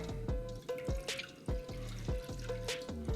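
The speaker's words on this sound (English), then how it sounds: "And you need a cup of water." Water runs into a cooking pot on the stove for simple syrup, making quiet, rhythmic splashing and dripping with ringing, bubbly tones that repeat every half second or so.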